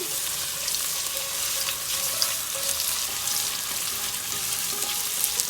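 Sliced red onion frying in hot oil for Kashmiri-style dal, a steady close sizzle with fine crackling and occasional soft stirring scrapes throughout, no talk.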